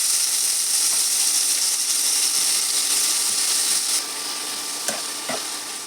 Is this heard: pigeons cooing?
no